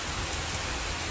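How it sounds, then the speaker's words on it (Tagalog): Steady, dense rain hisses without a break, a broad wash of noise with no voices. "Lakas ng ulan."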